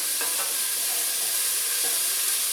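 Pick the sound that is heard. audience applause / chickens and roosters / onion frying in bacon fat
onion frying in bacon fat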